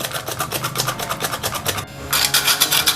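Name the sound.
beating powdered sugar into cake batter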